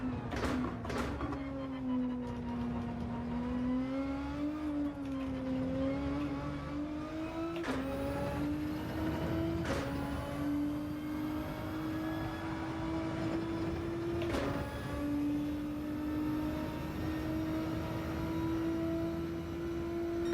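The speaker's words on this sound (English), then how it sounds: "I like the sound of the car especially, particularly those gear changes" Car engine in Gran Turismo 7 racing, a continuous loud engine drone rising in pitch with throttle and dropping sharply at several gear changes, played alone without talk.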